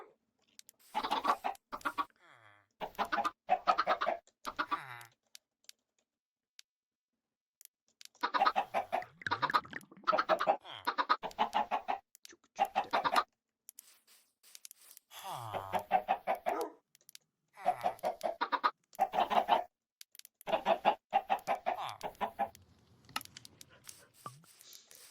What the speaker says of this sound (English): I've got one Polish chicken, Zeno.